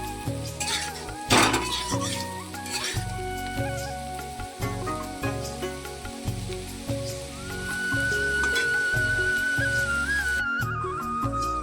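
Thick-cut potatoes frying in oil in a pan, a soft steady sizzle with occasional clinks of a utensil against the pan, moderately quiet and without talk.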